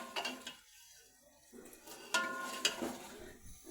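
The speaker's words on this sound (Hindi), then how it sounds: "ये देखिए जी मैं इसको अच्छे से भून रही हूँ। मैं प्रेशर कुकर में बना रही हूँ।" Beef trotters (paya) being stir-fried in a pressure cooker, with a spoon scraping and clanking against the metal pot in irregular bursts over a faint sizzle.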